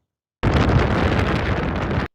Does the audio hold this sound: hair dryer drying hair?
no